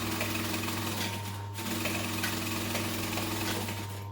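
A sewing machine stitches and back-stitches along a tote bag seam, a steady low motor hum with faint needle clatter running throughout.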